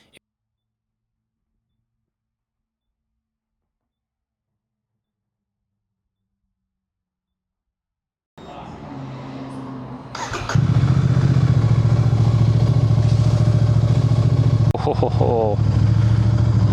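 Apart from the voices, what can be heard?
Royal Enfield motorcycle engine running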